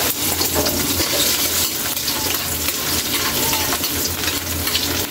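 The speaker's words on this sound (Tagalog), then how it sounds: "mainit na itong mantika natin. Pwede natin ilagay yung bawang." Garlic dropped into hot oil for pancit canton, a loud continuous crackling sizzle with stirring noise, close and steady from start to end.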